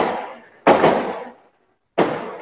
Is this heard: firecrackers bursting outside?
yes